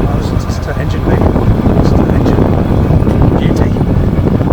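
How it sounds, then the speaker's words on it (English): Supercharged 4-litre engine of a 1998 Jaguar XKR X100 idling with the bonnet open, a steady low rumbling hum mixed with wind buffeting on the microphone, continuous and fairly loud. "this is the engine bay running"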